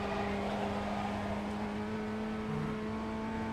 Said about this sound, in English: getting back on the throttle nice and early